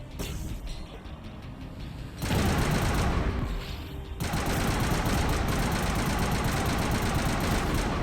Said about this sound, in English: Who's shooting me? Someone else is shooting me.